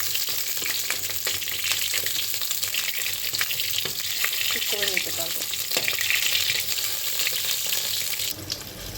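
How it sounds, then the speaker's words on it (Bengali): Oil sizzles and crackles steadily as eggplant fries, with occasional clinks and stirring sounds close by; no one speaks. "এবার এরকমভাবে লাল করে একটু ভেজে নেবে তাতে টেস্টটা বাড়ে"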